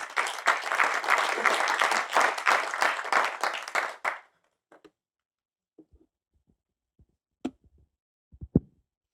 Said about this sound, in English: So without further ado, Francois, please give him a warm applause.